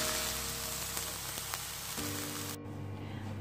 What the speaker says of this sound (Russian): Филе курочки мы обжариваем на сухой сковородке до золотистой корочки.